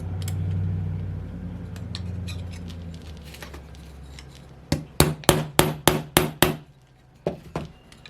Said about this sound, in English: I was wanting to just tap a Torx bit in there again